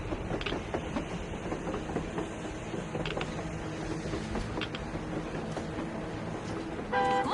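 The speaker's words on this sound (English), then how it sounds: "A train! A damn train on the surface!" Train running on rails in the Metro Exodus video game, a steady rumble and clatter filling the whole stretch at a constant level, with a louder burst near the end.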